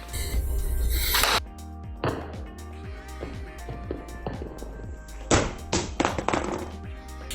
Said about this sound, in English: I did not mean to do the drop test with my Pixel 4